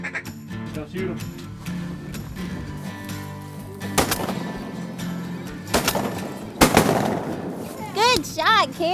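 During duck hunting in nine-degree cold, several loud shotgun blasts crack out close by, with duck calls and voices talking over the surrounding outdoor noise.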